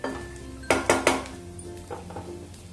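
Cashew and almond slices stirred in ghee in a pan, three sharp metallic clanks of a spoon against the pan in quick succession, then softer scraping taps, close with no talk.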